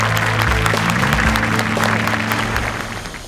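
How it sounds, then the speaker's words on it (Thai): An audience applauds at an innovation awards ceremony, a dense, steady wash of clapping with a low musical hum underneath that tapers slightly toward the end. "ขอเสียงปรบมือด้วยนะครับ"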